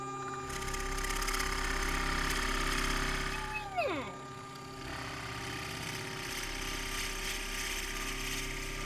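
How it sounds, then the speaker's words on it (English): A power drill whines continuously, its pitch dropping briefly midway as the bit bites, then running steady again. "Now drill it all the way in."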